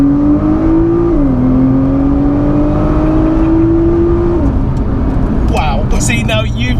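A 580 bhp Nissan R35 GT-R accelerates hard on a public road, its engine a loud, steady drone that climbs in pitch and dips briefly at two gear changes, with talking toward the end.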